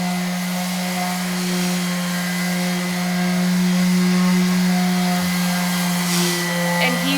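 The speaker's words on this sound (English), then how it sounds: "So just like an orbital sander, just to make it like, so there's no splinters or anything on it" A power tool drones steadily while smoothing a wooden car ramp being turned into a birdhouse, a loud continuous motorized hum that rises slightly in the middle.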